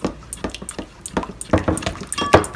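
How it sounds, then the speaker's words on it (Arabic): Oil and eggs whisked in a bowl, a utensil clinking and scraping against the sides in quick irregular strokes, close and fairly quiet, with wet liquid slaps. "ونخلط الخليط"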